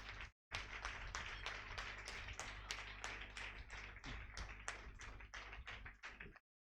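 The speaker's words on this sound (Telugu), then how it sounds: "అందరం చప్పట్లు కొట్టాలి." An audience at a felicitation ceremony claps together in a steady, even rhythm for several seconds before stopping abruptly.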